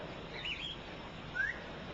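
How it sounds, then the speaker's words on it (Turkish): A couple of faint, brief bird chirps sound far off over a soft, steady outdoor hiss. "Kuşlar her zaman öter."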